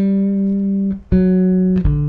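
Bass guitar playing the opening octave leap of a song, a few sustained clean notes, the second jumping an octave above the first, heard alone and close.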